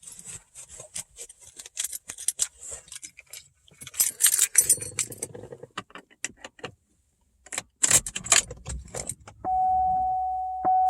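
Keys to a 2004 Cadillac CTS with nearly 200,000 miles jangle in close, scattered bursts. A steady electrical hum starts as the car's power comes on.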